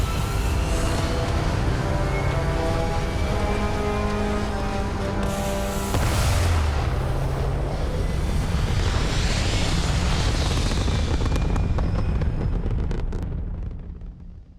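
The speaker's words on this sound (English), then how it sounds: "All thrusters firing." Spaceship thrusters fire in the game Starfield, a loud continuous roaring rush like wind or surf that surges midway and holds steady before fading out at the end.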